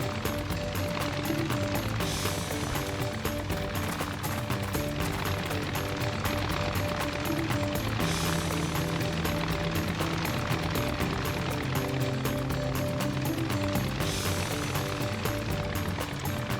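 A steady, loud aircraft engine drone with dense mechanical texture runs unbroken from the Shadow Hearts video game, a plane about to carry passengers, with background game music tones layered throughout.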